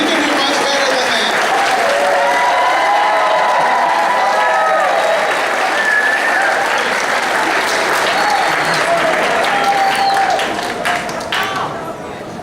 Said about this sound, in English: give these people a hand clap